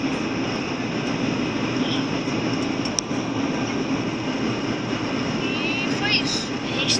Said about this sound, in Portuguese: A gente tá pousando.